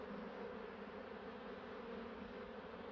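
Honeybees buzz in a hive during a spring colony inspection in Ardahan, a steady, dense, close drone that holds level and unbroken throughout.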